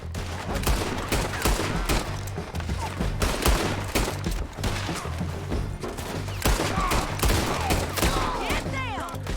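Dense, loud gunfire rattles through a Red Dead Redemption 2 shootout on PC: rapid overlapping shots and bursts crack continuously for several seconds, with no pause between volleys.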